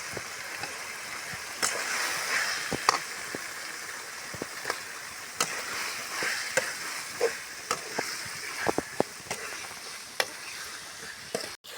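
Chopped chicken pieces frying in a pan, giving a steady sizzle with scattered sharp crackles and pops near the pan, continuing alone without talk.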